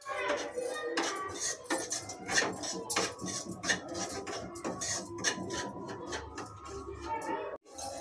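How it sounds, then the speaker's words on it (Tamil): Semolina roasting in ghee in a pan for pineapple kesari, with busy metallic scraping and clinking of a spoon against the pan over a faint sizzle, close by, and occasional background voices. "கொஞ்சம் நெய் விட்டுக்கலாம் வறுக்கும்."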